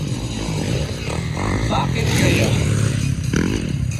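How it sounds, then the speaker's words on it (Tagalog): A racing motorcycle ridden by a professional rider sputtering and misfiring mid-race, its uneven engine buzz swelling and faltering nearby while commentators talk over it. "Parang kumikiyod-kiyod na yung motor niya ba?"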